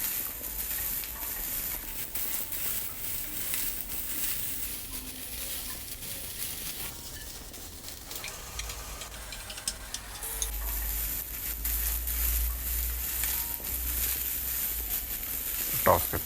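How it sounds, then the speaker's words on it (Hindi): Vegetables for Pakistani-style chicken manchurian sizzle steadily in a hot pan while being sautéed and tossed, with scraping stirs and soft clatter over a continuous frying hiss; no talking. "थोड़ा सा सौटे करेंगे और टॉस करेंगे।"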